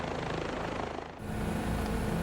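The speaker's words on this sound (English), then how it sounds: "we can go back to our helicopter" Bell 407 helicopter engine and rotor drone in Microsoft Flight Simulator 2024, a steady loud continuous whine and thrum, with a brief dip before the sound swells back to full strength.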